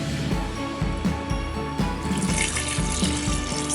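Water runs steadily from a tap into a pressure cooker holding mutton, a continuous splashing pour with a low rhythmic mechanical thumping underneath.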